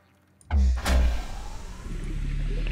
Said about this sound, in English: that's the sound of the power coming on inside, so oxygen generation power should restored